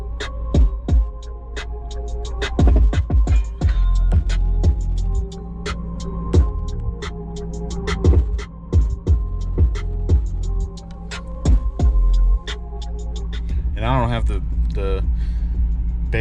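A car stereo in a third-generation Camaro plays music during a sound test, steady beats and bass thumps filling the cabin, with a voice speaking briefly near the end.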